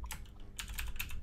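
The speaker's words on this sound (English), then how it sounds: "I just was having trouble typing for a second." Quick, uneven keystrokes tap on a computer keyboard during an online game night, in a short, close burst of clicks with no talk.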